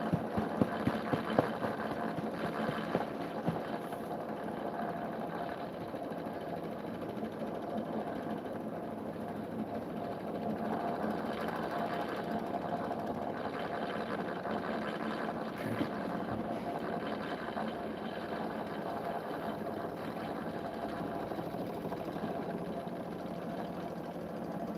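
A wood lathe with a variable speed motor runs steadily, giving a constant mid-pitched mechanical hum with a faint whine for the whole stretch, with no talk over it.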